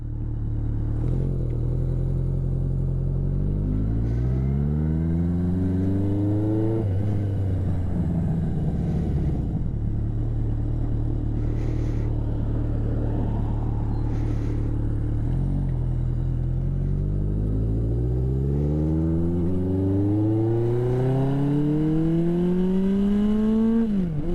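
A 1981 Yamaha XS1100 Midnight Special motorcycle, with a sticky clutch after long storage, rumbles loud and close while riding in Vancouver, its engine note repeatedly climbing through the gears with steady throttle rises and shifts, no talking.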